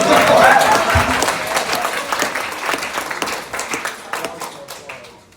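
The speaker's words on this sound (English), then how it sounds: "Let's give applaud for the American hero." A comedy club crowd in a pub venue bursts into applause with some cheering, loud at first and then slowly thinning into scattered claps over about five seconds.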